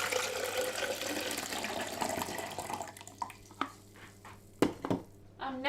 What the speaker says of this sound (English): so I'm going to pour the fixer back into the jug.